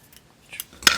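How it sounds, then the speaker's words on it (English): Scissors make a couple of short metallic snips through fabric while doll clothes are cut, with the last cut sharp and close, alone and brief. "Make a snip on that side."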